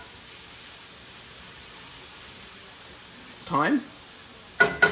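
Onions sweat with a little salt in a pan for beef chili, giving a soft, steady sizzling hiss throughout, with a brief voice speaking near the end.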